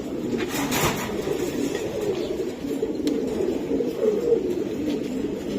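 A black female racing pigeon coos in low, throaty, repeated rolling calls that run steadily near at hand, with a faint background hiss and no talk.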